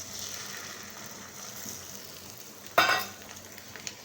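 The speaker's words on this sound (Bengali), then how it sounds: "তারপরে দিয়ে দিচ্ছি এই যে ডিমগুলো" Eggs frying in a pan, a steady soft sizzle running throughout, with one sharp louder crackle and burst partway through as something hits the hot oil, then settling back to a low hiss.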